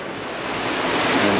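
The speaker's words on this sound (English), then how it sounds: "And the swells are just getting bigger, not because of the wind." Ocean swells and waves rushing steadily around a sailboat on open water between the Bahamas and Puerto Rico, a loud and continuous wash that grows slightly louder.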